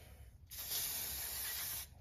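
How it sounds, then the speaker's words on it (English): Aerosol can sprays metallic gold paint onto a model boat engine, a steady close hiss that starts abruptly after a brief quiet lead-in and runs for over a second before cutting off. "So I'm going to spray the engine."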